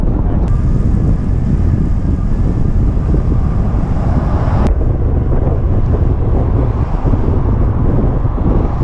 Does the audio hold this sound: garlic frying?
no